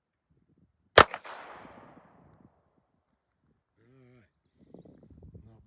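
A single sharp gunshot from a new Taurus .357 pistol fired during self-defense practice, a loud crack with a short decaying echo, followed by quiet and then faint talking.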